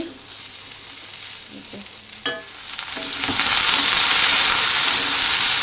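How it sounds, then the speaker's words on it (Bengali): Oil sizzles steadily in a pan as pointed gourd slices fry, the hiss swelling louder and denser partway through, with a few light clinks of a utensil early on. "এখানে বসেছি পটল ভাজা"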